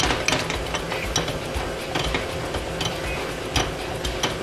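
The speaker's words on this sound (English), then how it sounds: "Get some cornstarch here. Mix it up real good." A cornstarch slurry is whisked in a bowl, utensil scraping and clinking against the sides in quick, steady strokes, close and moderately loud, with no one talking.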